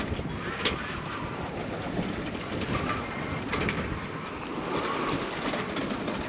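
A sailboat moving at about four knots among Greek islands, with steady broadband water rush and wind buffeting the microphone throughout, a continuous moderate wash with no speech.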